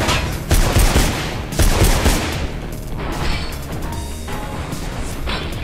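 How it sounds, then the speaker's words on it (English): Gunfire in a Mirror's Edge shootout inside a mall bursts in loud volleys mixed with sharp crashes of glass. Two heavy bursts come early, then give way to scattered lighter clatter and debris. "I'm firing in the glass, aren't I?"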